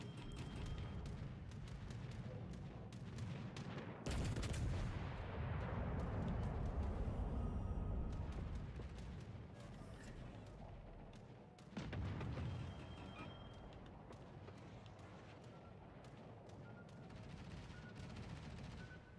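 Battleship Alabama's heavy guns fire in the naval video game World of Warships Legends: two loud, booming salvos a few seconds apart, each followed by a long rumbling decay over constant background battle noise.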